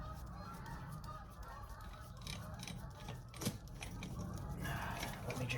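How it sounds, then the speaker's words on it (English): Seagulls call loudly outside a workshop, harsh honking cries layered into a dense, noisy outdoor wash, heard from indoors under a steady background roar with faint metallic handling sounds. "Birds are going crazy out there, the seagulls."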